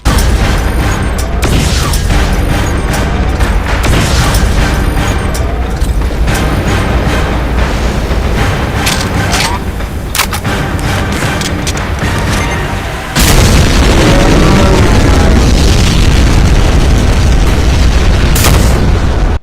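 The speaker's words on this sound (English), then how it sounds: "And rarely, it can throw a nuclear plasma bomb." Cyberdemon's nuclear plasma bomb going off in a Doom mod: a dense, sustained roar of booming blasts and mechanical rumble, with a sharp, louder detonation surge about two-thirds through that stays heavy to the end.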